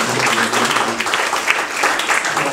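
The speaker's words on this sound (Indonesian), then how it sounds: "Jadi tepuk tangan." Audience applause at the closing ceremony of a legal advocate training course, right after everyone is announced as having passed. It is a steady wash of many hands clapping at moderate loudness, holding evenly for the whole stretch.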